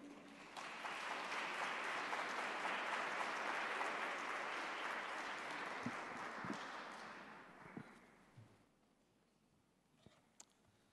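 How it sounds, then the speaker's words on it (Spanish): Loud, sustained audience applause welcoming Dr. Brian Lawlor at a dementia prevention conference, filling the hall for about eight seconds before fading into scattered final claps and quiet room noise. "Recibamos entonces con un fuerte aplauso al doctor Brian Lawlor."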